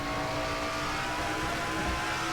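Engine drone of stock cars circling a track in a NNSCRA Castrol GTX Cup Series racing video game, a steady whirring roar as lapped cars are passed, with no gaps.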